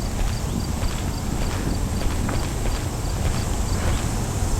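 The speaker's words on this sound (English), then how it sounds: "I heard footsteps." Footsteps in a horror video game, specifically Power Drill Massacre, heard as a steady run of dense, clip-clop-like treads over constant noisy game ambience with no talk.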